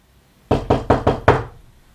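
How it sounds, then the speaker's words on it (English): Five firm knocks strike a door in quick, even succession, loud and close against a quiet background, the last one slightly harder. "you hear the knock at the door."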